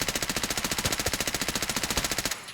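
Rapid automatic burst from an MPX submachine gun in Escape from Tarkov, a steady stream of about thirty close, loud shots over two seconds, then it stops abruptly.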